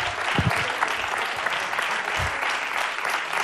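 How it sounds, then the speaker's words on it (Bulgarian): A television game show studio audience applauds a contestant, a dense, steady wash of clapping filling the clip with a few low thumps near the start. "Силни аплодисменти за Христо Тарасов."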